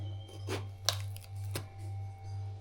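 A knife cutting through the stem of a jackfruit in a home kitchen, three short crisp cuts standing clear over a steady low hum, close and fairly quiet.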